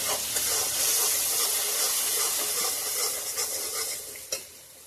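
Spices with turmeric being stirred in a hot frying pan for a Bengali fish curry give a close, continuous sizzle and hiss, with scraping stirs running throughout and a small clack near the end.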